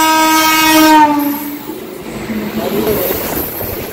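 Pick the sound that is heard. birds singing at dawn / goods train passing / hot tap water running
goods train passing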